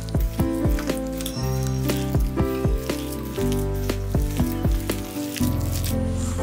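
Bonda dough is worked by hand with melted jaggery, giving repeated wet, squishy squelches in an uneven rhythm, close and moderately loud, with music playing underneath.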